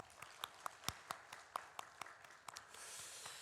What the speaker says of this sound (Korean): 박수 한 번 더 할까요?